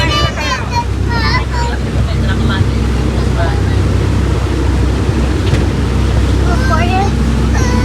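A yacht's motor drones steadily on open water off South Beach, Miami, with wind buffeting and water rushing throughout; excited voices chatter over the noise.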